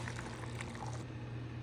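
Hot water is poured over three small chopped coconuts to make coconut milk, a faint, steady liquid pour with a low hum underneath and no talk.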